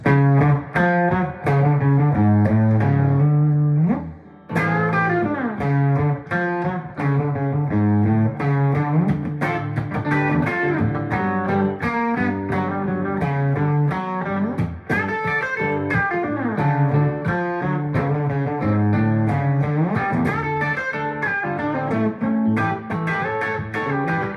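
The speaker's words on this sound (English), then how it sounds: "Just guitar into amp, and just as you say, you're getting all those sounds." A Gibson SG electric guitar played straight into a tube amp plays chords and melodic runs with a warm, overdriven tone, continuous and full, briefly pausing once near the start.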